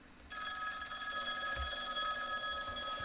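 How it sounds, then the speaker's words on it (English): A landline telephone rings steadily in a living room at night, a continuous electronic trill that starts abruptly after a brief quiet moment and carries on at moderate, close volume with no talking. "I would say it was around 8:30 when the phone rang."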